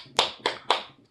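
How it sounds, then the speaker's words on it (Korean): Three distinct hand claps during a children's paper-folding lesson, each a sharp slap with a short decaying tail, spaced evenly and close to the microphone, followed by quiet. "박수 한번 쳐봐요."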